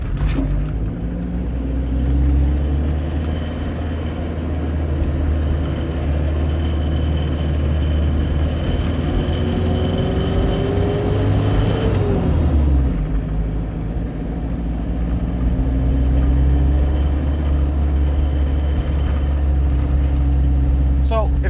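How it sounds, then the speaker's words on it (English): A 1996 Mitsubishi Fuso Canter double cab 4x4 with a 4M40 diesel engine and five-speed manual pulls up to speed, a loud steady drone and rumble that climbs in pitch, drops at a gear change midway, then builds again. "the engine does get it up to speed pretty dang well"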